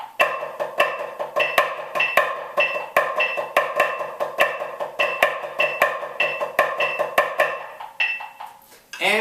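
Snare drum playing the second section of the flam accent grid rudiment, a steady stream of crisp flams and accented strokes in repeating groupings, close and loud with no talking.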